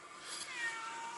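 A cat gives a single drawn-out meow, fairly faint and close, with no talk over it.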